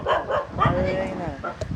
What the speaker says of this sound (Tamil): நாயிடாப்பா